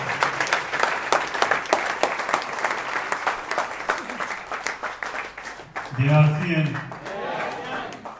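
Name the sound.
loud audience applause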